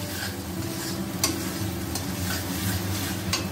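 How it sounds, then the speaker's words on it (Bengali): Spices frying in oil in a pan as they are stirred: a constant close sizzle broken by a few sharp scrapes or taps of the spoon against the pan, with a low hum beneath, with no talking. "এই যে মশলাটা ভাজা ভাজা হয়ে গেছে"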